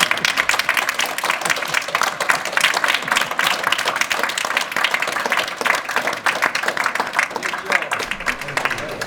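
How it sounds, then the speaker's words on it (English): A standing audience applauding at a public talk, a dense, loud, sustained burst of many hands clapping close by, with crowd noise and voices mixed in. "let us stand up. Yeah. And let's applaud everybody."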